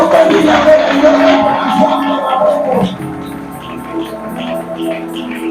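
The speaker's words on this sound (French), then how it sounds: "j'aimerais que tu puisses offrir à Dieu des offrandes d'acclamation" A church congregation cheers and acclaims, a loud, dense wash of voices for about three seconds before easing into quieter murmuring and talk.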